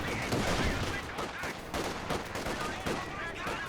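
Gunfire in the war strategy game Company of Heroes 2 crackles densely in overlapping bursts, rifle and machine-gun shots mixed with muffled blasts, continuous and fairly loud throughout.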